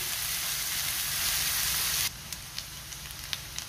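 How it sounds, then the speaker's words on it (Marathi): Chopped onion sizzling steadily in hot oil in a pan over a medium gas flame, a loud, dense frying hiss that suddenly drops to a quieter crackle with scattered pops. "कांदा आपल्याला व्यवस्थित परतून घ्यायचा आहे। गॅसची फ्लेम मी मीडियमवर ठेवलेली आहे।"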